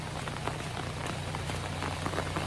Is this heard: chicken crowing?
no